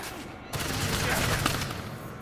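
Sustained burst of video-game gunfire from a police-style shooter, a dense rattling fusillade that kicks in after a short quiet start and holds steady and fairly loud to the end.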